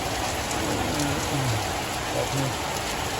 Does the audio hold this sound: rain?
yes